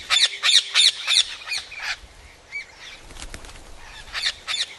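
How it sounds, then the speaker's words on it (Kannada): Parrots flushed from a crop field give a burst of four harsh, loud squawks in quick succession, then wingbeats and scattered calls as they fly off, with more squawks near the end. "ಈ ಗಿಳಿಗಳು ಈ ಔಷಧಿ ವಾಸನೆಗೆ ಯಾವ ರೀತಿ ಓಡ್ತಾ ಇವೆ ನೋಡಿ"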